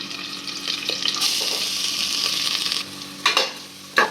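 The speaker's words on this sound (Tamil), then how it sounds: "இந்த கேரட்டோட பச்சை வாசனை போகிற வரைக்கும் கொஞ்சம் வதக்கிக்கலாம் இந்த எண்ணெயில்." Grated carrots with curry leaves sautéing in hot oil over a tempering for carrot rice, making a loud, continuous close-up sizzle that fades into a couple of scraping stirs and clatters near the end, with no talking.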